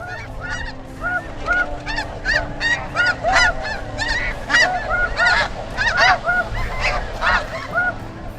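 Canada geese honking in a lively flock, a rapid run of repeated nasal honks rising and falling close by, with no talking.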